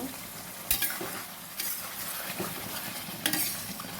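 Tomatoes and garam masala frying in oil for a prawn malai curry, a constant close sizzle with three sharp spatula scrapes against the pan, no voices.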